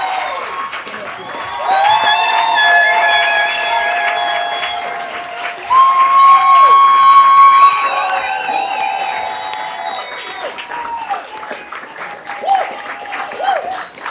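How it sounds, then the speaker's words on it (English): A school board meeting audience applauds educators being honored, steady clapping over roughly fourteen seconds with raised voices and whoops riding on top, swelling midway and tapering toward the end. "Let's give them a huge round of applause."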